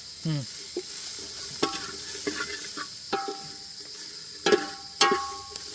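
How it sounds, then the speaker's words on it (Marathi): Onion and tomato frying in oil over a wood-fired village stove, a soft sizzle broken by sharp irregular scrapes and clatters of a spoon against the pot, with no one speaking. "कांदा टाकतोय मित्रांनो आता कांदा तांबाट घेऊ तळून"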